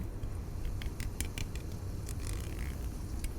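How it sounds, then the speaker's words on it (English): Steady rain ambience: a constant broadband hiss with scattered light pattering ticks and taps, fairly close and even in level throughout. "It's definitely rain."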